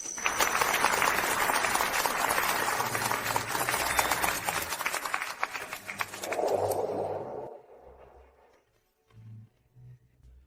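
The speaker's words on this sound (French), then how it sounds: "Accueillons-les avec des applaudissements." Wedding guests applaud as the bride and groom enter together, a dense wash of clapping that holds steady and then fades away into near silence with a few soft thumps.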